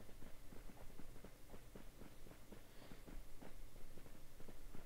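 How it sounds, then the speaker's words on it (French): Rapid footsteps approach in a mobile survival shooter game, a fast regular patter of steps at moderate loudness over a constant background hiss. "y'a des bruits de pas qui arrivent"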